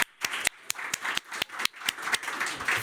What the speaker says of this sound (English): may I ask a big applause for George.